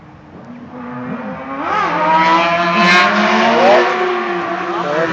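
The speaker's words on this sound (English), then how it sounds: "There's that motorcycle." A motorcycle engine approaches and passes nearby outdoors, its steady tone rising in loudness, shifting in pitch and lingering as it goes by.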